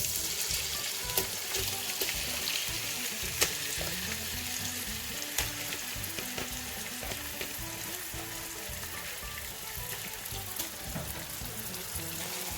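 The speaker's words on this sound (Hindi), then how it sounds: "अब मैं इसमें आधा किलो कीमा ऐड कर रही हूँ।" Half a kilo of beef mince hits a karahi with browned onions and spices, setting off a steady, dense sizzle with scattered pops and crackles. The frying stays close and continuous throughout, with no talking.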